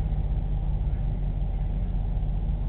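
A diesel car engine running with a low, steady idling rumble, close by and continuous, with no revs or changes in pitch.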